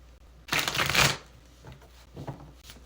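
Tarot cards are shuffled in one quick, close riffle lasting about half a second, followed by a few soft card taps and handling sounds in a quiet room.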